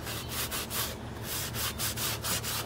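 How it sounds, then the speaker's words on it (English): An alcohol wipe rubbed back and forth over a sanded Jeep cowl, a steady series of close, soft swishing strokes with no voices. "So now I just take an alcohol wipe,"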